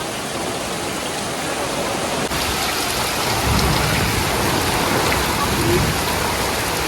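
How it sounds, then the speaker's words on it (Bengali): Heavy rain pours steadily outdoors, a dense, loud, continuous hiss of drops on surfaces that thickens slightly partway through, with no voices. "প্রচুর বৃষ্টি হইতেছে, প্রচুর বৃষ্টি হইতেছে।"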